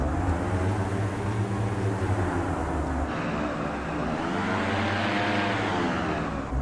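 Diamond Aircraft DA-62 twin engine in Microsoft Flight Simulator, a steady loud droning hum with layered propeller harmonics that shifts in pitch partway through, continuous and alone.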